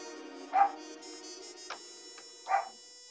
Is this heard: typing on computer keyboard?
no